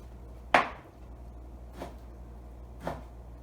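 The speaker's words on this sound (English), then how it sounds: "Okay, so let's cut up the beef." Three separate knife chops through beef on a cutting board for pepper steak, each a crisp thud followed by a pause, faint and close against a low room hum.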